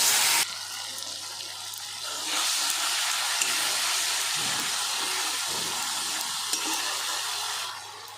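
Mustard paste and green chillies go into hot oil already seasoned with black cumin, for a Bengali kajli fish curry. A sharp sizzle starts at once and holds as a steady hiss, growing louder after a couple of seconds.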